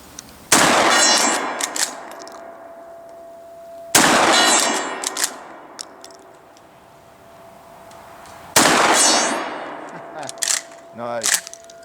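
Three loud 12-gauge blasts from a Remington 870 pump shotgun, each a sharp crack followed by a ringing metallic clang from a struck steel gong, spaced a few seconds apart, with a faint ring and small clatters between shots.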